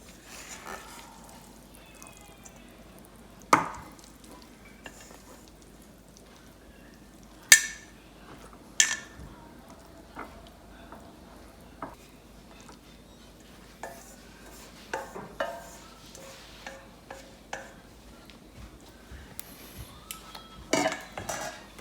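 Utensils scrape and clink against a bowl while spicy kimchi cold noodles are mixed and plated, with scattered sharp knocks and soft stirring sounds, close and sparse over a quiet kitchen background.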